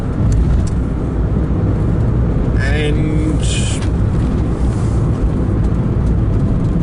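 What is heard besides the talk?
car passing by on the road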